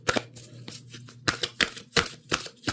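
Tarot cards being shuffled by hand in a quiet room, a series of quick riffling bursts in an irregular rhythm, close and fairly soft.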